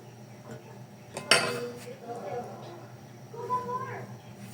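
A lid set down over a cooking pot of ginataan, Filipino coconut-milk stew, in a Davao de Oro kitchen: one sharp metallic clank rising out of a low, murmuring room background.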